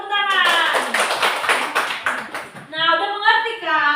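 Classroom applause as students clap together in a quick burst lasting a few seconds, close and lively, with voices around it.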